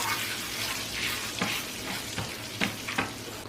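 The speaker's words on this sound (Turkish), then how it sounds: "Hemen üzerine tereyağını, nane yakayım." Butter and mint sizzle and crackle in a hot pan, a steady close frying hiss with occasional louder pops and stirring scrapes, no voices.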